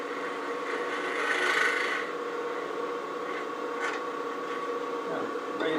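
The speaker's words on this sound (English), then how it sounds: "Use this negative rake scraper to kind of clean up a little bit." Negative rake scraper dragged across cherry burl wood, a close dry rasping scrape in short repeated strokes, steady and fairly quiet.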